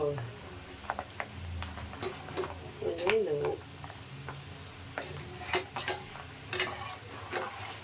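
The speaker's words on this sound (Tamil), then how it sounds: "கொஞ்சம் கொஞ்சம் போட்டு வறுத்துக்கணும். கலக்கிட்டே இருங்க." Lentils are dry-roasted in a pan and stirred continuously, a spoon scraping and tapping in irregular bursts over a low hiss, with a voice speaking briefly under the stirring.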